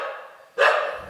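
A dog barks once at an ashram near a footpath, a single sharp bark after a brief lull, moderately close and alone.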